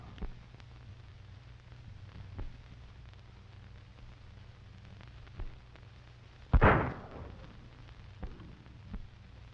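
A single sharp gunshot cracks loudly near the middle, set against faint hiss and low background noise in a 1935 western film.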